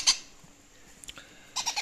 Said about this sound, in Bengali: সামনে দেখতে পাচ্ছেন Indian ringneck, green Indian ringneck